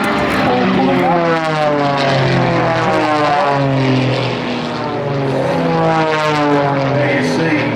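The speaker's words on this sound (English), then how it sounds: "There you see aircraft 2 and 3 pulling up and splitting into a heart formation." Propeller aircraft pull up and split into a heart formation at the Mudgee Car and Airshow, a loud droning engine roar with shifting pitch that sweeps steadily and stays strong from start to finish.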